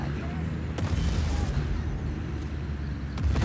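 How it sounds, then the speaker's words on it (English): Explosions in the open-world action game Just Cause 4: a couple of sharp booming blasts over a dense rumbling battle backdrop, with speech mixed in. "And why not another explosion and another we're being attacked."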